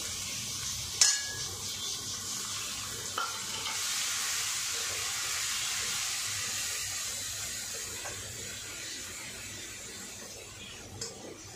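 Green chilli dropped into hot oil with garlic and black cumin sizzles and fries steadily for the whole stretch, a close, hissy crackle with a few soft clinks of a utensil against the pan.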